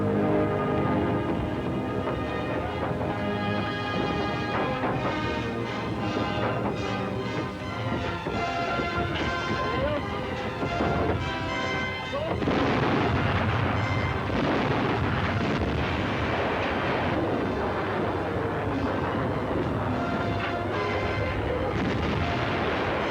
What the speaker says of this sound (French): L'activité de l'artillerie ne se ralentit pas